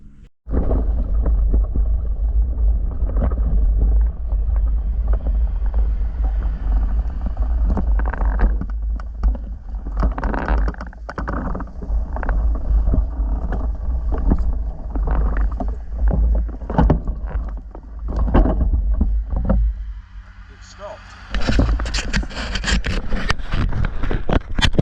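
A Norton Model 50 motorcycle engine thrums loud and close while riding, with wind buffeting the microphone, the revs sagging and stuttering as if about to cut out before picking up again.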